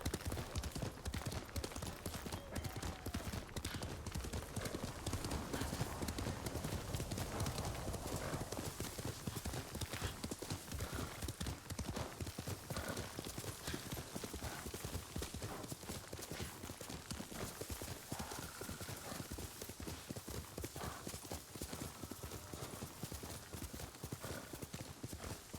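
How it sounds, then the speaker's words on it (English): A summoned horse gallops in Ghost of Tsushima, a dense run of clip-clopping hoofbeats that continues for the whole stretch, with a neigh or whinny in the mix. "I like how we can call the horse from anywhere."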